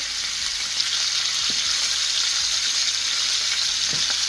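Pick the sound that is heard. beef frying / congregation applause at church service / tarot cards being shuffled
beef frying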